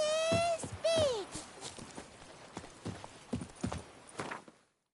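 Roach, a horse in a video game, clip-clops along in a steady trotting rhythm, with two short whinnies near the start before the hoofbeats fade out.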